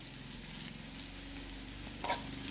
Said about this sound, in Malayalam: കറിവേപ്പില ഇട്ട് നമ്മൾ നന്നായിട്ട് വഴറ്റുന്നുണ്ട്.